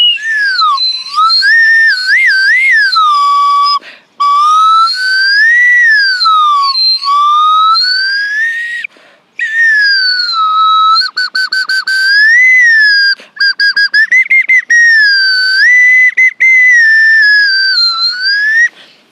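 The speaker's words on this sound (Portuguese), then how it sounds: "Tinha aprendido uma técnica de assovios para se comunicar." A person whistles to communicate, sending loud, close, shrill, warbling phrases that sweep up and down in pitch, separated by brief gaps, with quick trilled runs in the middle and no talking.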